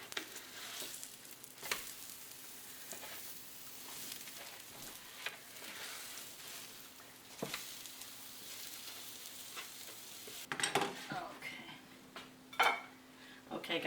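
Irish boxty potato pancakes fry in a very hot pan, a steady soft sizzle broken by occasional scrapes and clatter as they are turned, with a few sharper utensil knocks near the end.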